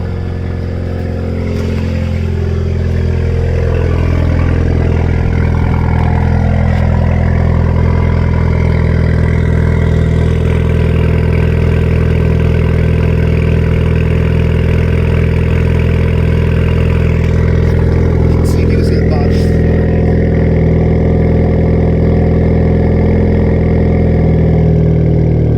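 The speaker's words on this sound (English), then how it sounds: "Let me run outside so you can hear it on a cold start." A Ford Fiesta ST engine idles after a cold start, a loud, steady, close-up drone that holds even throughout with no revving, heard alone without voices.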